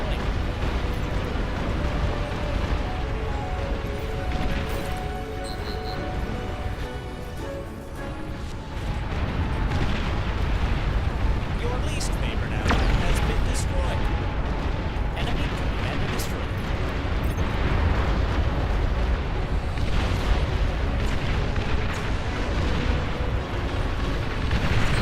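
Nuclear missile blasts in the real-time strategy game Beyond All Reason rumble in long, dense booms and eruptions, layered over constant battle noise with a game announcer's voice cutting in.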